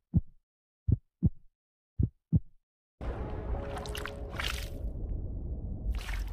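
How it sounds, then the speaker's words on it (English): A tiny heartbeat in a 3D animation of human conception, five soft low thumps in a lub-dub rhythm against silence, followed by a dense swelling whoosh of ambient sound. "Within weeks, a tiny heartbeat emerges."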